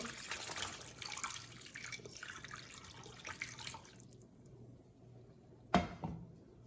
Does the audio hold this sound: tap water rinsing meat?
yes